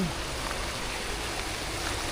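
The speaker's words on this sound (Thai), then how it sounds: "มีน้ำตกด้วย น้ำตกย่อมๆนะครับ" A small waterfall flows beneath a bridge near a Bang Saen beach, a loud, steady rushing wash of water that stays constant throughout with no voices.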